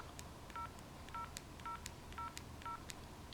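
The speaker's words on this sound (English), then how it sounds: "you need to dial pound, pound, 6 zeros," DTMF keypad tones from a Samsung cell phone dialing a service code, five short evenly spaced beeps about half a second apart, faint and clean over quiet background hiss.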